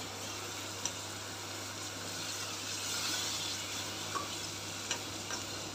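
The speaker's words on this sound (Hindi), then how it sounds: "इसमें आप अदरक लहसुन का पेस्ट डाल देंगे" Ginger garlic paste sizzling steadily as it fries in a pot, a dense continuous hiss with occasional small pops and stirring ticks over a low steady hum.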